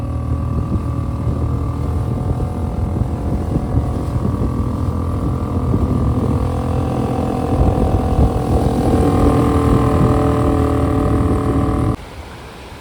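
A small 2.5 outboard motor drives a boat at speed, a loud, steady engine drone with a constant pitch that runs nearly without pause, then drops away abruptly near the end.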